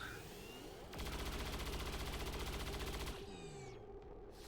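Overwatch fire in XCOM 2 Long War of the Chosen: a sustained rapid volley of automatic gunshots lasting about two seconds, bracketed by whooshing game effects, fairly quiet overall.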